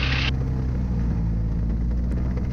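Mooney aircraft engine during a run-up with propeller cycling, a steady, loud low-pitched drone throughout the short stretch, with a brief burst of brighter noise at the very start.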